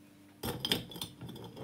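Ice cubes drop into a blender in a short burst of hard clattering and clinking against the jar, close and fairly quiet, after a brief near-silent start.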